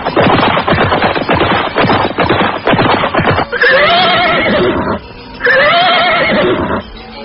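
Horses ridden along a forest edge at nightfall whinny twice in loud, close neighs lasting over a second each, following a stretch of rapid galloping hoof clatter.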